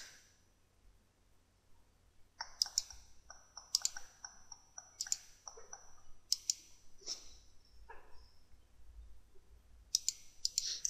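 A computer mouse clicking through buttons in GameMaker, a series of faint crisp clicks, each followed by short interface tones, spaced about a second apart over a quiet low hum.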